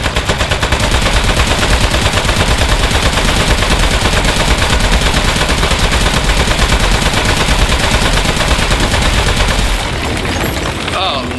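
Nonstop rapid gunfire from the video game Aperture Desk Job, a loud dense rattle of machine-gun bursts running for about ten seconds before tapering at the end.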